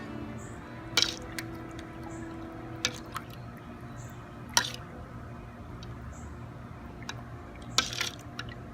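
A spoon stirs a turmeric dye bath, giving soft wet sloshing with a few sharp clinks and drips against the container at irregular intervals, close and fairly quiet, no talking.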